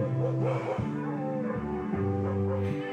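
Several dogs howl and yip along to holiday music in a radio report, their wavering voices blending with sustained musical tones throughout.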